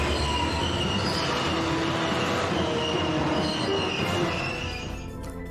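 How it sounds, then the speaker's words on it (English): A train in the Resident Evil 2 video game grinds to a halt with loud metallic wheel squealing and rumbling rail noise, tapering off near the end. "Leon reaches the room where Sherry is and tells her to press the red switch, and the train stops."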